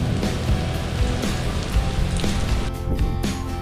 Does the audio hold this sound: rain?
yes